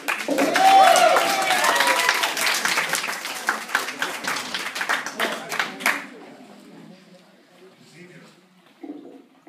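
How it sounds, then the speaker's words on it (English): A high school audience bursts into loud, dense applause for student performers, thinning into scattered claps that fade out after about six seconds, followed by a quiet room and faint voices. "Round of applause for her"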